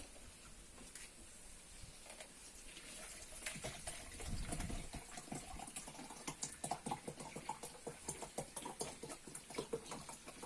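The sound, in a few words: water poured into a measuring jug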